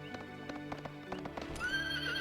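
Horse hooves clip-clop in a quick uneven rhythm in the video game Suikoden 3, then a horse neighs near the end, fairly faint overall.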